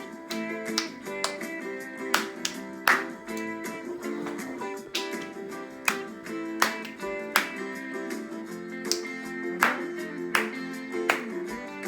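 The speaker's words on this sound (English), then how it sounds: "All right, clap with us." Hands clapping along to a children's song, a steady beat of sharp claps repeating roughly every half second over music.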